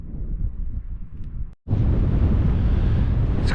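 Strong, blustery wind roars across an exposed island campsite, buffeting the microphone in a steady heavy rumble that briefly cuts out before returning even louder.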